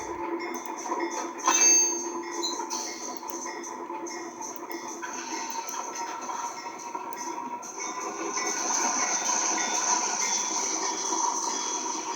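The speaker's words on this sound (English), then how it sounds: "This locomotive right here will be our extra yard switcher if we require one." A CSX locomotive held as a spare yard switcher at St. Nickolas Yard idles steadily at moderate distance. The rumble stays continuous, with a brief louder burst near the start and a swell toward the end.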